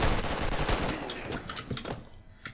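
Rapid automatic gunfire in the video game Red Alliance, a dense burst of loud shots that thins into scattered, separate reports toward the end.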